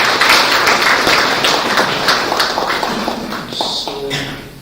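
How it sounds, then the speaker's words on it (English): An audience at a theological college seminar in Delhi claps in a dense, fairly loud burst of applause that carries on steadily and thins slightly toward the end. "Let's give a round of applause."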